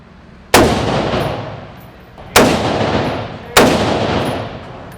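FN SCAR 17 .308 rifle fired at a range: three loud, sharp, close shots spaced about two seconds apart, each with a long booming decay ringing out before the next.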